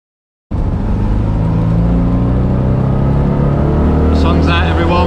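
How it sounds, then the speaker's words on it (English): A Citroen 2CV's small engine drones steadily while driving, a continuous low rumble starting abruptly after a brief silence and holding loud and close throughout, with faint voice sounds near the end. "listen to the engine"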